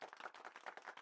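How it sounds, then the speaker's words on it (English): Quick, light clapping from a small group, rapid and fairly faint, like a short burst of applause. "Oh, I'm getting claps? Oh, I got an applause."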